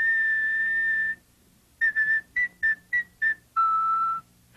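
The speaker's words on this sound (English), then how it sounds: "We hear these vibrations as a whistling sound." A clear, steady whistle: one long tone, a pause, a string of short bursts, then a lower sustained tone.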